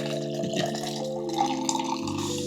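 Water pours from a kettle in a steady trickling stream, with a faint rising pitch as the vessel fills, heard close and alone without talk.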